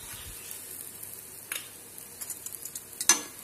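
A whole-wheat paratha frying in oil on a pan and being flipped, a faint soft sizzle with a few light scrapes and taps of the spatula.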